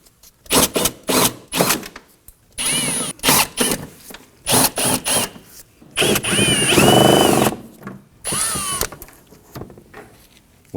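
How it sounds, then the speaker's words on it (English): Repeated short bursts of a power drill boring out rivets on a Volvo XC90 front inner fender liner, whining on and off in quick pulses with one longer grinding run, close and loud. "We're going to use our drill bit here to drill up the centers."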